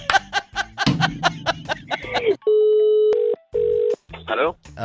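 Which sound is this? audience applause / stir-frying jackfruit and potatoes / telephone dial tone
telephone dial tone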